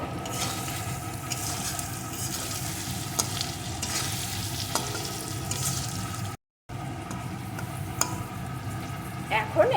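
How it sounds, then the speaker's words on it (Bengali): Potatoes fry with chili and turmeric powder while being stirred, a dense continuous sizzle with intermittent scraping under faint background voices, close up, with a brief silent gap partway through. "এখন এই আলুর ভিতরে দিয়ে দেবো একটু লঙ্কা গুঁড়ো পরিমাণ মতো হলুদ গুঁড়ো একটু নাড়িয়ে নেব"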